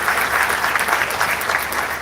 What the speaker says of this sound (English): get a nice round of applause for that